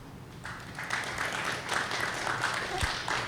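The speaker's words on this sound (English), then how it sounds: "I would request the audience to clap for UNCDF" Faint, distant audience applause at an event launch, a steady patter of clapping from a crowd lasting a few seconds with little talk.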